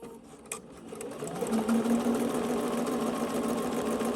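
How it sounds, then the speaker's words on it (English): Bernina 770 Quilters Edition Plus sewing machine starting up and stitching steadily, a close, even mechanical hum with rapid needle rhythm building after a few clicks and continuing to the end. "And then I can start sewing"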